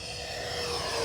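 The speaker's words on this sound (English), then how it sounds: "Guys, this plane flies great." An Arrows Viper 50mm electric ducted-fan RC jet on a 4S 2200mAh battery flies past, giving a smooth, continuous whooshing whine that swells slightly louder toward the end, steady and alone with no voices.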